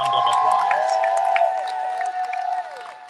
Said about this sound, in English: Give them one more big round of applause.